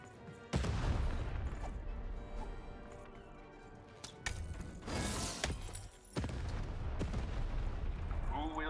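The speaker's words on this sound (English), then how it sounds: "Shoot the button to fire the cannon." In the video game Lost in Random, a cannon fires in heavy, booming blasts among mechanical clanks and crashing debris. The bursts are loud and close, with a voice talking over the game sounds.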